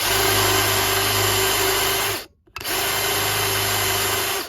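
A power drill bores a hole in wood, whining loudly and steadily up close, cutting out briefly partway through before running again. No one speaks.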